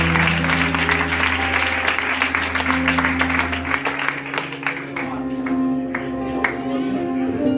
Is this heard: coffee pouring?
no